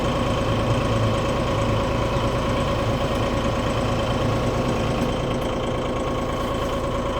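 Massey Ferguson 1740M tractor engine idling steadily, heard from inside the cab as a constant, close, even rumble that holds at one level throughout.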